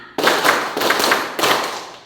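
A middle school class claps together in a counted clapping game, several sharp group claps in quick succession, loud and close, with no talk.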